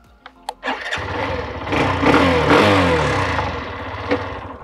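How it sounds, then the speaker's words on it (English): A Hero Xtreme 125R 125cc motorcycle starts up after a few clicks, then its engine settles into a throaty, burbling idle with a brief blip of throttle. "The exhaust sound. Now the Xtreme 125 sounds decent."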